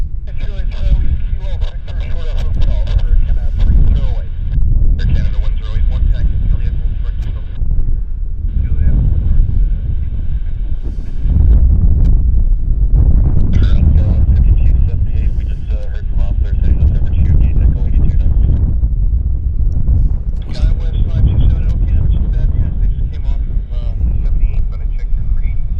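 A Boeing 737 MAX airliner taxis at Vancouver Airport, a steady low engine rumble with wind buffeting the microphone, continuous for the whole stretch while people talk over it.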